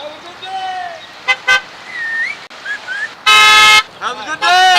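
Car horns honk in short toots and one long blast during a Memorial Day drive-by, close and loud, mixed with people cheering and calling out in the background.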